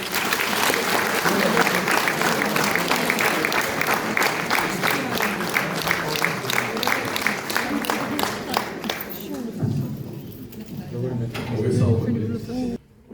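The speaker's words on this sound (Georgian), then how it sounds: "აპლოდისმენტებით მიესალმეთ ბატონ გივი ვიქანაძე" Sustained audience applause welcoming a minister at a medal awards ceremony in Khashuri, dense steady clapping from a large crowd that thins and gives way to murmuring voices near the end.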